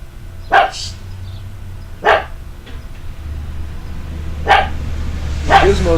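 A dog barks four times in single spaced, sharp yips over a steady low hum of background noise, moderately close, with no talking.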